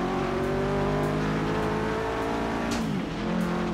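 A Subaru WRX STI in the racing game Forza Horizon 4 revs hard and climbs through the gears, its engine note rising in steady pulls with a brief dip at a shift before surging again, loud and continuous.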